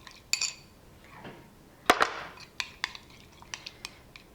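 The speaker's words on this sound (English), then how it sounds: "we're gonna give this a quick mix" A lamb chop marinade is quickly mixed in a bowl, with a spoon clinking and scraping against the sides in a string of sharp, close taps and one louder clatter, fairly quiet overall.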